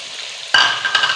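Chicken karahi in a pan gives a sudden loud sizzle as yogurt goes in and is stirred, the frying hiss settling into a steady crackle with a second burst near the end.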